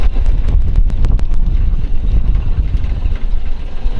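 A 1931 Ford Model A Roadster drives with the top down, its engine a steady low rumble heavily buffeted by wind across the microphone, with some rapid ticking early on.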